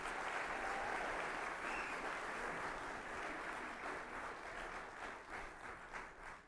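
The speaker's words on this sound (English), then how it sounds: "another big round of applause for the group from Northeast" A large audience claps steadily for a performing group at a drug court ceremony, a dense, sustained wash of applause with no talking, tapering slightly near the end.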